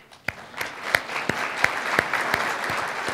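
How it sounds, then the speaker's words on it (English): One person clapping for an audience at a business awards keynote, a series of about ten sharp, evenly spaced claps over a soft bed of crowd applause. "I'm going to applaud you."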